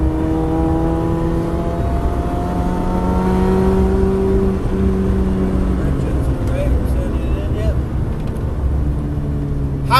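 Car accelerating on track during a Cadwell Park track day. The engine drones steadily and swells as it pulls, heard from inside the car while a person talks over it.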